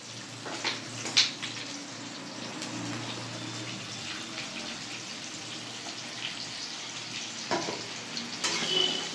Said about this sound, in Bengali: তেলটা গরম রয়েছে এবার আমরা দিয়ে দেবো পেঁয়াজ